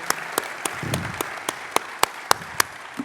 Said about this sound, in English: Let's have a round of applause for Thomas.